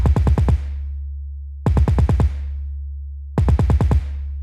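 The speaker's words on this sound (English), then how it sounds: "You're going to hear the bass wobble and it sounds distorted" Three repeated bursts of deep 808 bass, each with rapid stuttering hits whose low tones overlap and ring on, giving a distorted, wobbling sound.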